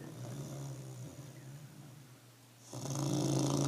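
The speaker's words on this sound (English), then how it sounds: "now you know my dog has a snoring problem" A sleeping dog snores in slow, rough rasping breaths close by, the sound fading briefly before a louder snort-like inhale swells near the end.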